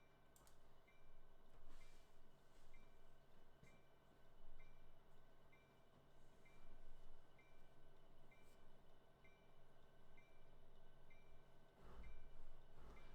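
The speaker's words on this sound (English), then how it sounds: "I think another train's going by. I can hear it." A train rolls past near Cajon Pass, a faint steady rumble with a repeating soft ticking pulse and distant hum, heard from inside a cab at low level with no talk.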